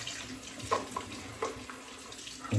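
Water runs steadily from a household tap into a sink under strong pressure, a soft continuous hiss with a few light splashes and clunks as the flow is turned down.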